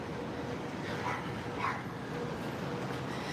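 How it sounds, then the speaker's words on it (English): Small puppies give soft yips and whimpery barks in a couple of brief bursts, faint and slightly distant against a steady background murmur on a New York City outing. "Little puppies right there."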